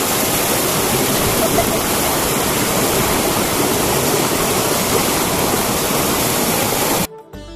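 Waterfall near Hampi pouring down from rocky hills, a loud, dense, unbroken roar of falling water that holds steady throughout and cuts off abruptly just before the end.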